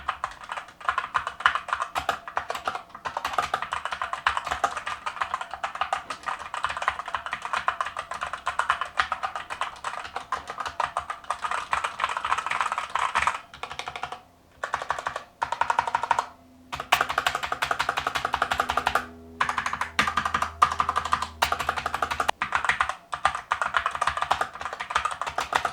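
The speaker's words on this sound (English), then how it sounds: "let's see how this sounds straight out of the box" Typing on a cheap, unmodified stock mechanical keyboard: a fast, continuous stream of close clacking keystrokes with a few brief pauses, loud and alone with no voices.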